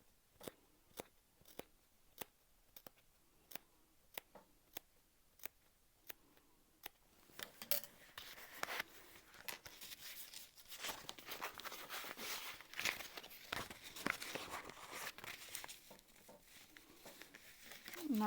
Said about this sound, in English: then we can 1/8 inch snips to the top curve